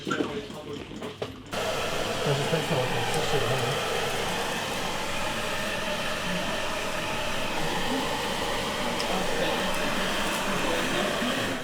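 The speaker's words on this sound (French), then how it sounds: "Je dois mettre le sèche-cheveux." After a brief moment of quieter sound, a hair dryer switches on and blows with a steady, close whooshing roar that continues unchanged.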